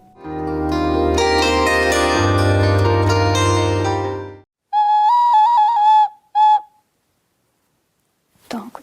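A Kryvyi Rih clay whistle sounds two or three clear, high piping notes in short bursts, with a steady warbling tone, then a brief silence and a faint last chirp.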